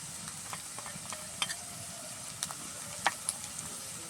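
Potatoes fry in oil in a pan while spices go in, with a soft, faint sizzle under scattered stirring clicks and light scrapes, quiet and close with no voices.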